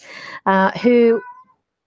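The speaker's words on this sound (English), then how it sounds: "there's my cat" A cat meows twice in quick succession, close and clear, after a brief breathy sound.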